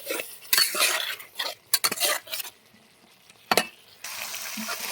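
Spices stirred and fried in oil with chilli, turmeric and salt in a pan, giving scraping utensil strokes against the pan in short bursts over a sizzle, with a steadier fry in the final second.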